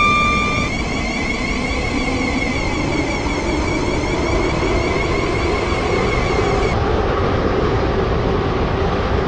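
A train in the Roblox-style game Stepford County Railway runs steadily, a loud, continuous rumbling drone with high whining tones that shift and cut off partway through, no voices.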